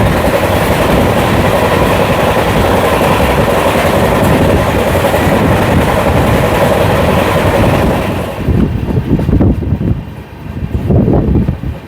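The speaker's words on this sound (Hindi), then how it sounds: "भाई साहब किसी ट्रेन को तो अभी अपनी ट्रेन ओवरटेक कर रही है" A Suvidha express train on the Patna to Delhi run rumbles loudly along the rails with steady rolling roar and wind, then the noise breaks into pulsing clatter as wheel sounds rise and fall near the end.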